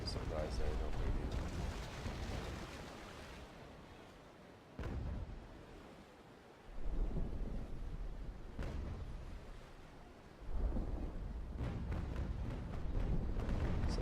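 Warship cannon broadsides in a naval video game: deep booming blasts recur several times, each a rumbling low burst rising and fading, under quiet game ambience.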